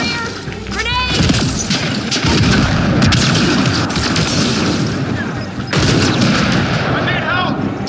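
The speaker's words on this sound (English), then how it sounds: "Cover your ears! Grenade!" Mass Effect Andromeda combat on Havarl: a grenade blast and sustained gunfire crackle loudly and continuously, with a second burst of shots near the end and shouted game voices mixed in.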